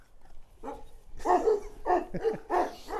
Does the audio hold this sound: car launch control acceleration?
no